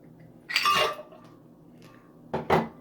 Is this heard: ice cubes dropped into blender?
yes